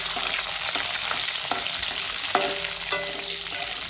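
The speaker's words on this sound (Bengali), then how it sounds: "তেলটা আমার গরম হয়ে গেছে। এবার আমি ফোড়নটা দিয়ে দেবো," Whole tempering spices crackling in hot oil, a dense close sizzle with scattered pops and a few stirring scrapes, steady and loud with no talking.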